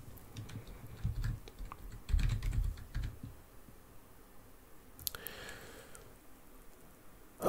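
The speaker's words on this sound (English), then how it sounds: "I guess you're just supposed to type, right?" A password is typed on a computer keyboard in quick bursts of close, crisp key clicks. A quieter pause follows, then a few scattered taps.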